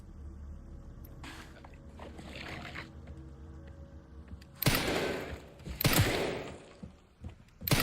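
Gunshots in the survival-horror game Resident Evil 9 Requiem: after a stretch of quiet ambient creaks, two loud, sharp shots ring out close together near the end, with no talking.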